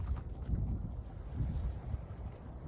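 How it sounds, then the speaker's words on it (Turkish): Low, gusty wind at sea aboard a boat buffets the microphone in uneven surges, a dull rumbling roar with no voices. "Rüzgar başladı."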